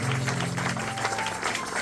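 Congregation clapping and cheering in a church service, a dense continuous patter of many hands under a sustained low hum from an organ or keyboard, steady in level throughout.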